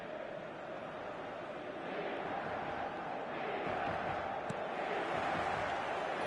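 A stadium crowd in the eFootball video game keeps up a steady, dense roar throughout, swelling slightly louder toward the end with no distinct cheers breaking out.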